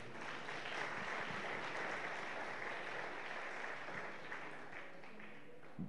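A church congregation at a Bisaya-language sermon applauds steadily for several seconds, a dense wash of clapping at moderate distance.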